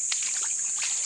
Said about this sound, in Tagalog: Ito yung tubig.